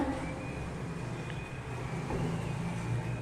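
Road traffic rolls past outside an open window of a Bangalore home, a steady low rumble of passing vehicles heard from indoors with a faint high tone running through it.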